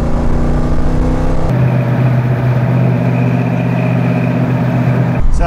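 A 1969 Ford Mustang Mach 1 V8 with an automatic transmission and a MagnaFlow exhaust rumbles steadily up close, its deep, loud engine note shifting in pitch as it revs before dropping back.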